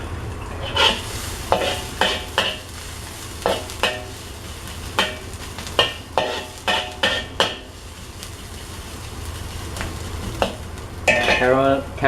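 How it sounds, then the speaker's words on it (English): Onions caramelizing in a wok are stir-fried under a constant soft sizzle, punctuated by about a dozen sharp metallic scrapes and clanks of a spatula against the pan at an irregular rhythm. "caramelize it until you can smell the sweetness of the onions"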